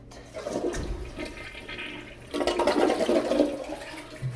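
A clogged toilet flushing, a sustained rushing swirl of water that surges louder midway and keeps draining to the end, close and with no talk.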